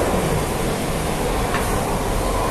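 An MRT metro train at an underground platform, heard as a steady loud rumble of rail transport that fills the space throughout, with no clear talk over it.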